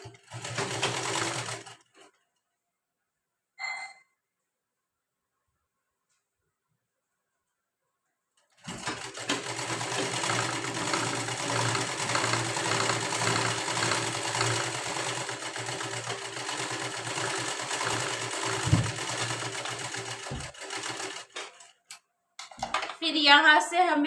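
A sewing machine stitches a princess-cut blouse without lining, starting with a short run and a brief burst, then a long, steady, close whirring run of about fourteen seconds before a final short burst.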